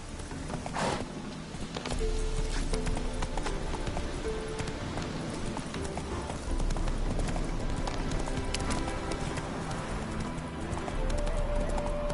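Geralt's horse Roach gallops in The Witcher III video game, steady rapid hoofbeats pounding close and loud over soft ambient music, with a short whinny near the start.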